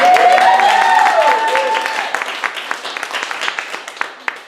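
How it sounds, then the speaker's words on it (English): A small audience at a social media training session applauds, starting under a speaking voice and tapering off into scattered, individual claps. "Let's give him a round of applause"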